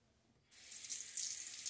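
A bathroom water tap switches on and runs steadily into the sink to rinse a razor during a wet shave, a bright hiss that starts abruptly and continues alone.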